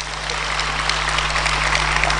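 An audience at a political State of the Nation address breaks into dense, steady applause, a loud wash of many hands clapping together over a low electrical hum.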